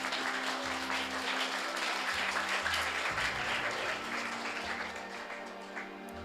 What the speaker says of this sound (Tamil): அவருடைய முயற்சிக்கு முதல்ல நம்ம எல்லாம் ஒரு கைத்தட்டல் கொடுப்போம்